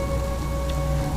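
Steady rain falling at night outside an empty house, a continuous even patter with no voices.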